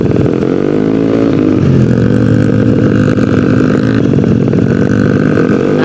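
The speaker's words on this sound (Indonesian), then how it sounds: "BTW ini gue pakai knalpot dari VRG" A Yamaha Mio scooter with a 200cc engine and a VRG aftermarket exhaust drones loudly and continuously up close, its note rising and falling as the throttle changes, with no talking.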